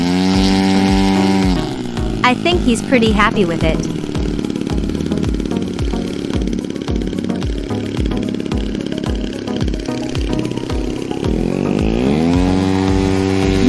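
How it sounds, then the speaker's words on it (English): A 120cc twin-cylinder gasoline engine with electronic ignition on a giant-scale RC F4U Corsair runs nearby, a loud pulsing throaty drone that rises and falls as it is revved, while someone briefly talks over it. "Right now it has a 120cc twin gasoline engine with electronic ignition."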